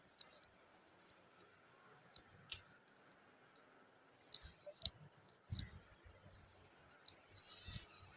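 A computer mouse clicking, with sparse, faint, isolated clicks scattered through a quiet room and a small cluster of sharper clicks near the end.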